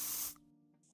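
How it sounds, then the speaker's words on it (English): A quick spurt of hair spray from a roughly 12-ounce can: one loud, close hissing burst lasting about a third of a second, then cutting off to near quiet with faint tones. "He aims to spray at your hair and gives you a quick spurt."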